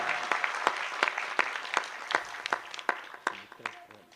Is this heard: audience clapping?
yes